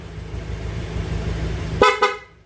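Two short, loud honks from an original PIA horn fitted to a Honda Click V3 scooter with combo lights, sounding close by after a steady idling engine hum.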